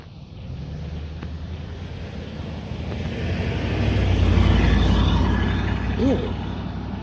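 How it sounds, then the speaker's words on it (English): A car with a worn engine that burns oil approaches from behind someone walking on a street and passes close, its rumble swelling to a peak and then fading, with no talk over it. "here comes a car behind me."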